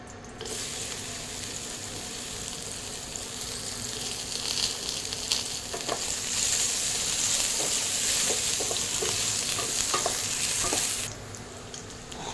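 Bitter gourd pieces fry in mustard oil for shukto, giving a steady, close sizzle with scattered scraping clicks from stirring. The sizzle swells midway and cuts off near the end.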